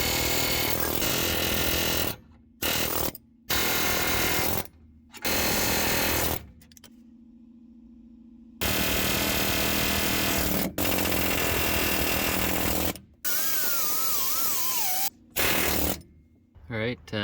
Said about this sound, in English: with an air hammer with the chisel attachment and see if I can get those rivets loose